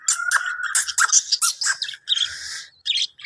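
Young parrot chicks squawk and chirp sharply while squabbling with one another at close range, a rapid irregular series of harsh calls with brief pauses.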